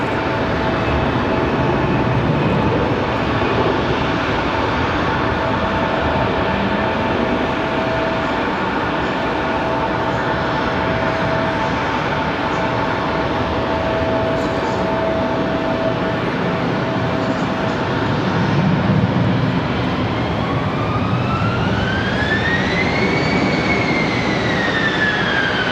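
A Delta Airbus A320 bound for Detroit taking off from Raleigh-Durham airport, a loud continuous jet engine roar that holds steady for the whole stretch, with a rising whine near the end and no speech.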